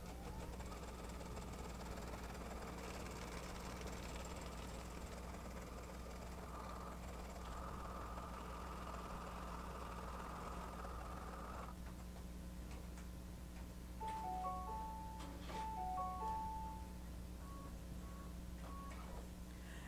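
A home embroidery machine stitches the first color stop, a placement line for positioning batting on an in-the-hoop mug rug, giving a steady, fast ticking rhythm over a constant motor hum, with a few short electronic beeps near the end.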